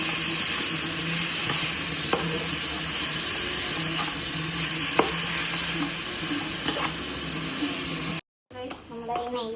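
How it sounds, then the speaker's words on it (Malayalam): Grated carrot and sugar being stirred in ghee for carrot pudding, a steady close sizzle with spoon scrapes and light clinks throughout, a voice talking over it, then a brief cut to quieter stirring with speech. "ഞാൻ അതാണ് നന്നായിട്ട് ഇളക്കി കൊടുക്കാം"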